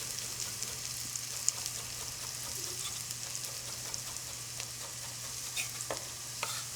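Asparagus sizzles in brown butter with onion in a pan, a soft, fairly quiet crackling hiss over a low hum, with scattered pops and light scraping near the end, no talking.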